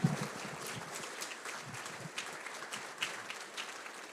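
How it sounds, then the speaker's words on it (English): An audience claps for the emcee at a teacher of the year awards presentation, a moderate, uneven patter of hands with a few sharper claps standing out, fairly near. "if you could just give him a round of applause for continuing to be here"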